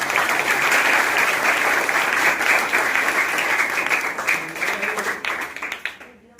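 Audience applause at a school poetry recital, a dense sustained wash of many hands clapping close and loud, thinning and tapering off near the end.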